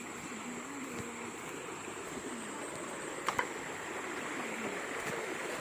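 A small river stream swollen with risen water rushes steadily, a broad continuous hiss close by with faint voices and a couple of brief knocks over it.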